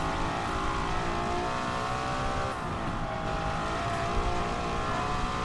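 A 1955 Mercedes racing car in a video game, its engine droning steadily at high revs with harmonic whine, brief shifts and faint tire noise, loud and continuous.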